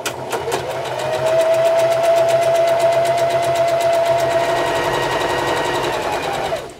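A sewing machine hums loud and close in one continuous run, joining baby quilt pieces end to end with a fresh needle, the steady rapid stitching rhythm starting after a couple of clicks and no voices.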